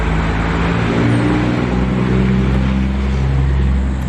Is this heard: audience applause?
no